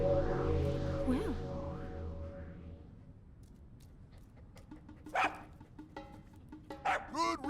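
A dog barks and yips in Zelda Breath of the Wild, a few short bursts near the end following a louder stretch of game music and ambience, with no talk over it.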